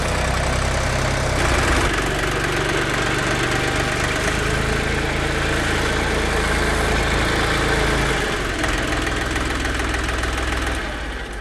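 Engine of a loader vehicle lifting a 450 kg pallet load, a steady close mid-pitched drone with a slight knocking vibration that holds almost unchanged for about eleven seconds, no talk.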